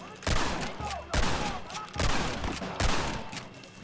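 Rolling block rifle gunfire in Red Dead Redemption, four loud close booming shots spaced about a second apart, each with a rolling tail.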